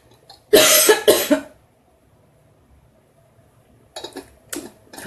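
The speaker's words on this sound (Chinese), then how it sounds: "非常的抱歉呢，让大家先忍受一下我的咳嗽" Two harsh, close coughs in quick succession, then near silence, followed by a few fainter coughs or throat sounds near the end.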